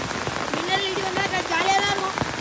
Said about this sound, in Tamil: மக்களே வெளுத்து வாங்குது மழை